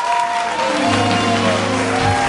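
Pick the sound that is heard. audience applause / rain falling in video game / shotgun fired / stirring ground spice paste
audience applause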